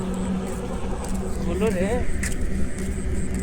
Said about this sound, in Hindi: अभी गाड़ी का साउंड आ रहा होगा ना